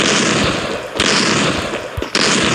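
Shotgun fire in the mobile game Free Fire, loud blasts at close range, each hit a sharp crack with a rushing tail, about three shots spaced roughly a second apart.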